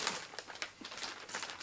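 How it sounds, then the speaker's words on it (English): Thick plastic bag wrapped around a pair of ELAC Vela BS 404 bookshelf speakers being nicked and torn open, a run of close, soft crinkling and rustling bursts with no voices. "Opening that plastic bag is very, very straightforward."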